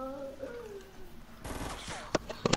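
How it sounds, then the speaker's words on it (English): A burst of gunfire in the video game Fortnite, several quick sharp shots near the end following a stretch of talking voices. "Gunshot."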